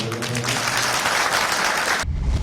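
A crowd claps loudly and steadily for political leaders at a protest gathering, dense applause filling the first two seconds before cutting to quieter low rumble.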